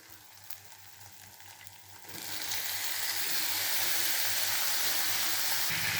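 Raw chicken dropped into a pan of hot onion-tomato masala for a spicy chicken gravy, a quiet stretch giving way to a loud, broad, steady sizzle that swells up and holds close.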